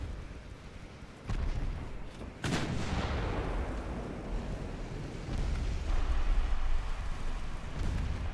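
Naval guns boom in the warship game Ultimate Admiral Dreadnoughts, heavy artillery blasts with a big one followed by a long rumbling decay and continuing low thunder of battle, no speech.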